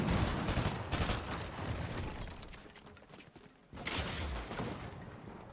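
Fortnite tournament gunfire: bursts of loud, sharp shots in clusters near the start and again after a short lull, with thumping impacts between volleys and no talk.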